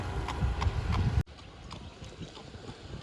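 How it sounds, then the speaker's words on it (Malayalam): Horse hooves clip-clop in a quick, regular trotting rhythm on a hard road, loud at first, then cut off and fainter with wind and traffic behind. "റോട്ടിലോട്ട് കുതിര ഓടി വരുന്നുണ്ട്"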